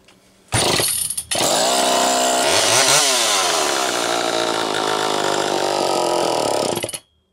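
A Homelite Super EZ chainsaw with a Walbro carburetor starts up abruptly, catches after a brief dip, then runs loud and steady at a high, buzzing rev with a short surge before cutting out.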